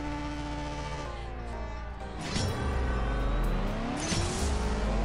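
Engine roar of a drag race in the mobile game CSR Racing 2, a steady loud drone that rises through gear shifts with tire squeal, with no one talking over it.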